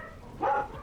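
A single short dog bark rings out at moderate distance inside the Dragon Age: Inquisition game world, with no talk over it.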